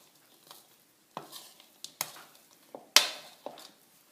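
A spoon stirs chia seeds into a sticky no-bake granola bar mixture, giving scattered scrapes and clacks against the bowl, with several sharper knocks that stand out clearly.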